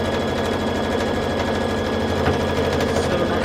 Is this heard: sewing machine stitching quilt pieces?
yes